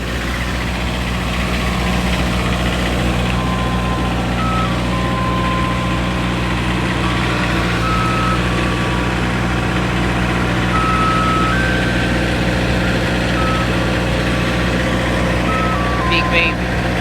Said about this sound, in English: an ice cream truck at Miami Gardens